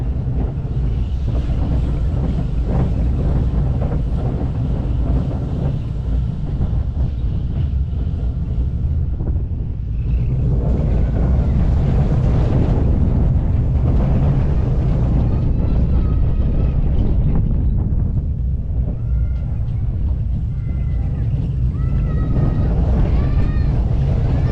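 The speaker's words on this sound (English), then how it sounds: "I'm finally riding the stupid kiddie ride." Riding the Air Grover kiddie roller coaster at Busch Gardens Tampa: a steady, loud roar of wind buffeting the microphone and rumbling wheels runs throughout, with brief shrieks near the end.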